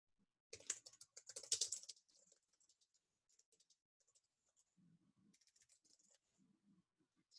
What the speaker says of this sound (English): Excuse me, typing.